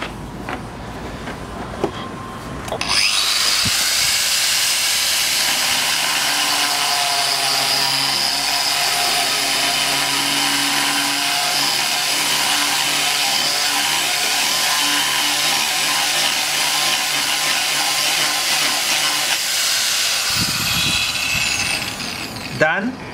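A rotary milling bit grinds out and widens a hole in porcelain tile, a loud steady whine that starts after about three seconds and runs unbroken for roughly seventeen seconds before stopping.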